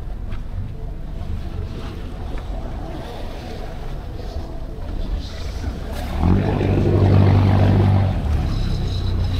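Rented boat motoring on the sea off Adrasan, Antalya, a steady engine drone with water and wind rush, growing louder and heavier as it moves ahead, with faint voices in the background.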